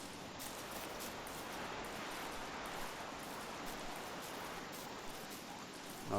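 Steady rain falls in the video game Don't Starve as a soft, continuous hiss of droplets at low level, unbroken and alone for several seconds.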